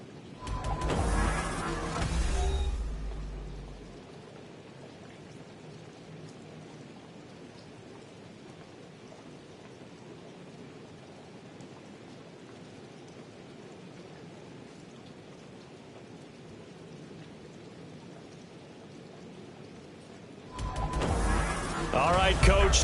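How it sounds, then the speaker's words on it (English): Steady rain falls over a football stadium in the video game Madden 24, a constant hiss that runs throughout, with louder broadcast audio bursting in at the start and end. "The rain set to continue as we are underway in the second half."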